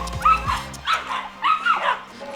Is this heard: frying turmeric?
no